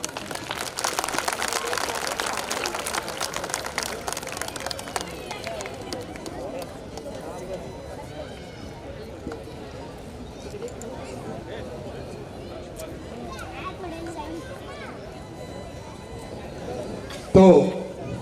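Audience clapping at a United Ex-Servicemen Welfare Association program, a dense burst of applause in the opening seconds that thins out, followed by someone speaking over a microphone.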